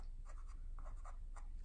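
Pencil drawing on paper, over a dry pastel sketch of strawberries in a bowl, short scratchy strokes in quick bursts, close and quiet against a low background hum.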